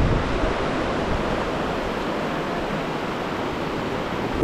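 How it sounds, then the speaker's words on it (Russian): A river rushing near Aspendos in Turkey, a loud, steady broadband roar of flowing water heard close up and alone, with some wind buffeting the microphone. "И потрясающая река."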